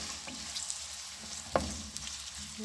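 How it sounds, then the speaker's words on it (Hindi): Onions frying in hot oil in a pan, a soft steady sizzle with a sharp clink of a utensil partway through and a few light stirring taps, close by with no talk. "पैन में मैंने ऑयल डाल दिया था, तो अब मैं प्याज ऐड करूँगी।"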